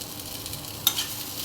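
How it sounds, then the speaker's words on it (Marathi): Onion, garlic, coconut, tomato and curry leaves are sautéed in a pan for urad dal amti, giving a soft continuous sizzle with a brief faint scrape of stirring partway through. "चांगलं परतून घेऊया."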